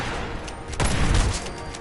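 A burst of rapid gunfire rings out in a video game, a short, dense volley of shots rising over quieter background ambience before fading.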